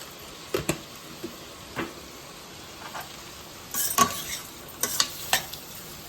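Seema chinthakaya fry with turmeric and salt being stirred in a pan, a faint low sizzle under scattered spatula taps, with a busier run of metallic scrapes toward the end.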